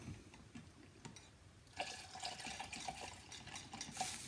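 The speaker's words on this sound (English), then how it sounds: "Whisking constantly." A whisk works custard in a saucepan, giving faint, rapid liquid stirring and light metallic ticks that start quietly and become busier and more rhythmic partway through.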